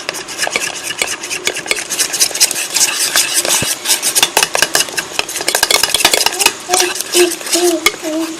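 A spoon scrapes and clinks steadily against a bowl as black pepper is mixed into a chicken mixture, a busy, close, continuous rattle of stirring with no talking.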